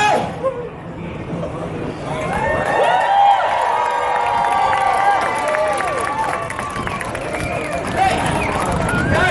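A crowd cheering and shouting together at Pier 39, San Francisco, with a broad roar of voices and some clapping that swells and holds steady throughout.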